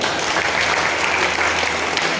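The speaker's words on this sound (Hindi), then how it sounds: "उनके लिए भी जोरदार तालियां" Steady, loud applause from an audience at a vigilance awareness drama event, recognising the lights and sound team, with dense continuous clapping and no voices over it.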